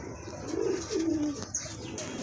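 A pair of racer pigeons gives two or three throaty coos close by, with a faint chirp and a brief wing flutter in the background.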